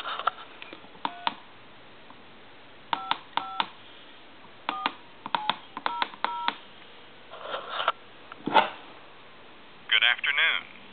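Touch-tone dialing on a converted military field telephone, several short bursts of DTMF beeps in irregular groups, close and clear, ending with a brief ring and the start of a recorded voice on the line.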